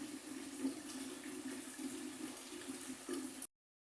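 A steady stream of water poured from a jug into a cooking pot for a falsa fruit drink, a continuous close splashing pour lasting a few seconds before stopping abruptly.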